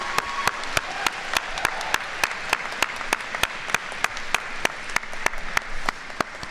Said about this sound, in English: Can we just give a round of applause for all the parents and people who helped us?